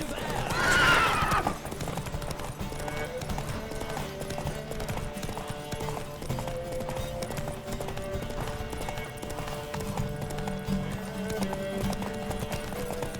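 Rapid, steady clip-clop of galloping hooves in The Witcher 3: Wild Hunt, with a brief whinny at the start, continuing loudly throughout.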